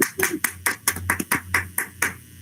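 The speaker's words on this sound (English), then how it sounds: "let's hear a huge round of applause for Kira Espinosa." Sparse hand claps at a school board meeting, about a dozen separate slaps spaced unevenly, close by with no voices, sounding like a small group applauding.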